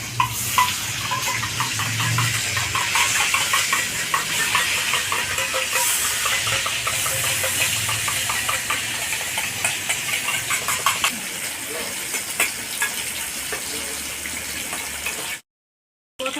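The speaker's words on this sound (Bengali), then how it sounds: "প্রথমবারের মাছ ভাজা হয়ে গেছে, আর বাকি মাছগুলো আমি এভাবে ভেজে নেব।" Pieces of catla fish fry in a pan for doi katla, giving a constant, close, hissing sizzle with bubbling crackle throughout, before cutting out briefly near the end.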